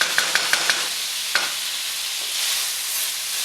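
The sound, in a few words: stir fry cooking in a large pan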